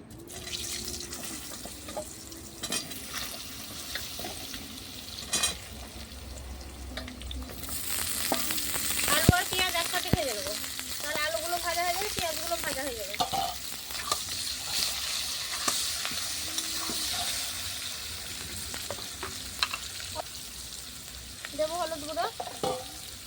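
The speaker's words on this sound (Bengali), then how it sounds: "সব মাছগুলো ভাজা হয়ে গেছে উঠিয়ে নেবো ওই মাছের তেলেই ভেজে নেবো আলুগুলো" Sliced potatoes fry in oil left over from frying mirik fish over a clay earthen stove, giving a steady crackling sizzle that runs throughout with occasional stirring clinks and faint voices in the background.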